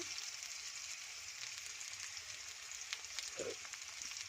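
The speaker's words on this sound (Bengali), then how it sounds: "পেঁয়াজটা লাল লাল করে ভেজে নেব।" Onions fry in a pan for a Bengali-style egg and potato curry, giving a steady, soft sizzle with faint crackles throughout, near but quiet.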